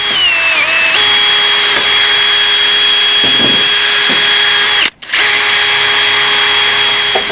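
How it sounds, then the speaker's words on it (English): A power drill whines steadily at close range, its pitch shifting slightly as it runs, with a brief cutout near the end before it resumes. "I don't guess we got a wire brush for that drill, do we?"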